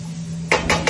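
Vegetables for spring rolls being sautéed in a pan, heard as three quick, loud metallic clanks of a utensil against the pan over a steady low hum.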